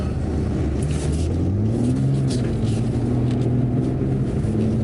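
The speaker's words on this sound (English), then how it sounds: "It lets me hold a lovely little 4-wheel power slide." A BMW G80 M3 Competition xDrive accelerates through a four-wheel power slide with its traction aids switched off, its engine droning loud and close and climbing steadily in pitch as the throttle is fed in.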